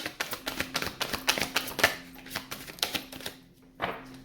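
Rapid, crisp riffling of a tarot deck in quick bursts, close and fairly quiet, with a brief pause before a final flurry.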